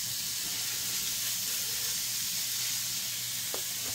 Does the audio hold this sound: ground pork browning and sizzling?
yes